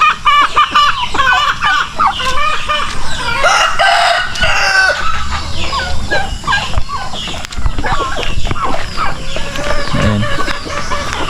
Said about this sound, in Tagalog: May mga native chicken tayo dyan.